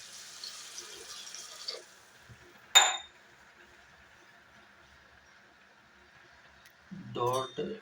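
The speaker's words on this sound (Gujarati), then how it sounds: "આમાં આપણે 1 ગ્લાસ પાણી નાખશું." Water pours briefly into a pot during drumstick curry cooking, followed by a single metallic clink, a long quiet stretch, and then a voice speaking at the end.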